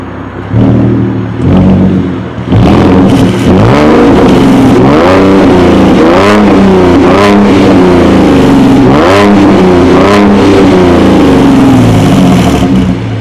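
A Ford Mustang with its muffler deleted revs hard and loud, several sharp throttle blips rising and falling over a raspy idle, heard close up outside the car with no talking.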